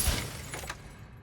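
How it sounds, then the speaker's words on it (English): Glass shattering in the stealth video game Dishonored, broken by a sleep dart: one brief, close crash with bright scattering shards that fades quickly into quiet. "I'm probably gonna have to waste one to break the glass"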